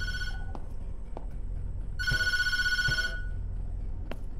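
A telephone rings in the horror video game Tattletail, set in 1998: a bright electronic ring bursts out loud for about a second, then falls quiet over a low ambient hum, with faint clicks around it.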